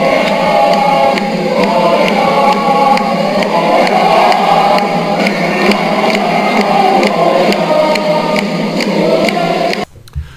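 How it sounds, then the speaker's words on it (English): Pension-reform protesters in Paris chant the song "On est là" together as a dense, loud crowd, with the massed singing going on steadily throughout and cutting off abruptly near the end. "what you hear there is the song that keeps getting repeated throughout these demos"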